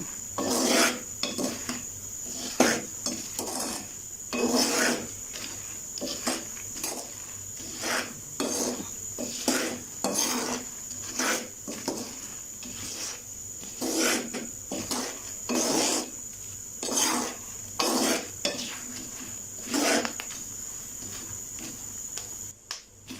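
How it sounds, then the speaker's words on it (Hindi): Crackling, popping bursts and scraping from peanuts roasting as they are stirred in a hot skillet, irregular and close, with no talking. "ये देखिए जी मूंगफली कलर भी चेंज कर दी है और इसके भुनने की आवाज़ भी आ रही है"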